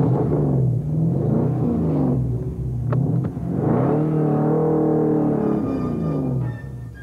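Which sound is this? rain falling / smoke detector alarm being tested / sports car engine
sports car engine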